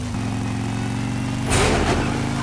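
Car engine in a PJ Masks racing video game, a steady mid-pitched drone that swells into a louder rev about halfway through and holds there.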